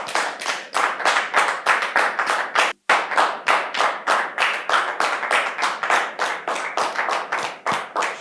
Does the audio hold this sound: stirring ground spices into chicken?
no